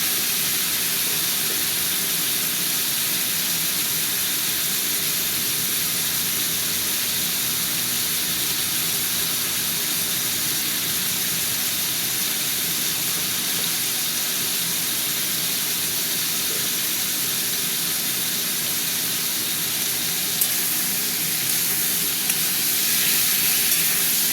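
Steady, close sizzling and hissing of potato frying in a pan of fish curry with tomato and mustard, continuing evenly throughout without a break.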